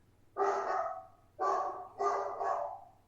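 A dog barks three times up close, the first bark drawn out, followed by two quicker ones.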